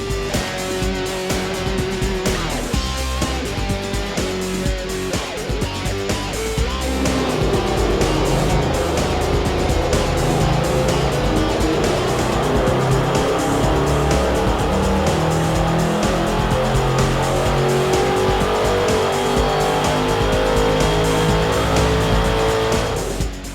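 A car engine roars loud and sustained on a dyno while running ENEOS 5W40 motor oil during a high-horsepower pull, its pitch climbing steadily under load from start to finish.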